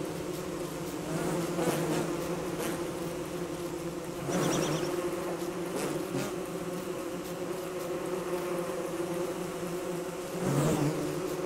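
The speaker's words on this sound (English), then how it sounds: "So many bees." Swarming bees in the video game Don't Starve make a steady, dense buzz that drones continuously, swelling slightly at a few moments, with no speech over it.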